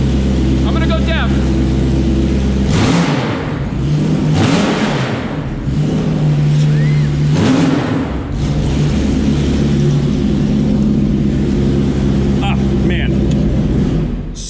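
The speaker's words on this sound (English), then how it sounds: "it also wouldn't be appropriate if I didn't give you a rev" Engine of a 1965 Superformance GT40 revving while parked, loud, close blips rising and falling in several repeated pulls, with someone talking over it.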